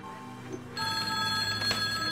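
A telephone rings in the horror game Bear Haven Nights 2, a steady electronic ringing tone that starts partway in and holds alone at moderate loudness, with no voices.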